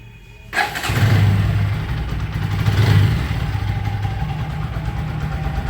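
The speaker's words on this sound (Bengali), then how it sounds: "গাড়িটা স্টার্ট দিলাম আপনাদেরকে তার যে আইডল সাউন্ডটা শোনালাম" A TVS Apache 4V 2025 ABS motorcycle engine starts after a brief quiet moment, then settles into a steady, close idle with a constant low rumble throughout.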